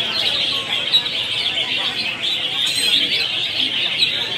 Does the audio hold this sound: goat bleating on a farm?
no